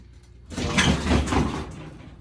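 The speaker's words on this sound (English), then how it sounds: "before the dog knocked open the wood stove door there" A dog bangs open the door of a wood stove in a workshop: a sudden loud clatter and rumble of metal that swells and lingers for about a second and a half, close by, with no talking.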